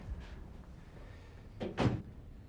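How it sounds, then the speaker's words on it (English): An interior door is pushed shut in an office room, giving a soft thud and a short bump near the end of an otherwise quiet moment. "Shut the door."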